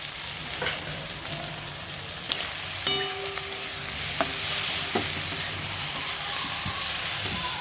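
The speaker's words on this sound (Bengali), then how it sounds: "টমেটো সব মশলার সঙ্গে কষাবো।" Tomatoes and spices sizzling and frying in a pan for prawn curry, a steady close crackle broken by occasional sharp clinks and scraping stirs, with no voices.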